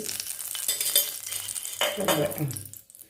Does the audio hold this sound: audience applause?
no